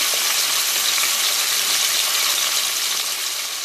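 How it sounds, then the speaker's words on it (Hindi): Chicken for white karahi frying in hot oil, a dense, even sizzle that holds loud and close throughout with no talk. "सारा चिकन हमने डाल दिया है, अब हम इसको 10 से 15 मिनट के लिए फ्राई करेंगे"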